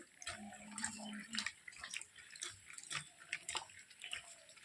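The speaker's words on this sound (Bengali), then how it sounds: "ভালো করে এগুলোকে ওয়াশ করে নিই।" Close splashing and dripping water as small puti fish are rinsed and handled by hand in a bowl, irregular sloshes and trickles at low level.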